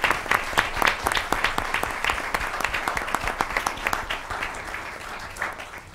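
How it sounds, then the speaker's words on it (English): Students of the Month are seated to a round of applause at a school board of education meeting, with individual claps rapid and distinct, loud at first, then thinning and fading out. "One more round of applause as they are seated."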